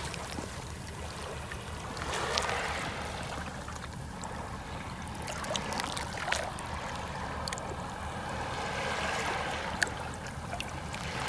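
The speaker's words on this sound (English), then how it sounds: "phone just down by the water here so we can listen to the waves" Continuous wash of waves breaking and rolling on the shore nearby at night, with a steady hiss and gentle swells rising and falling.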